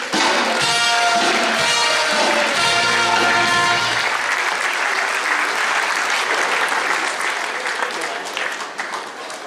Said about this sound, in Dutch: geef zo'n geweldig applaus